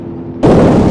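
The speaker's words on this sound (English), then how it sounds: "Oh, and that's the sound of the flat tire." A sudden loud burst as a car tire blows out in the BeamNG.drive driving game, a sharp onset followed by a sustained noisy rush.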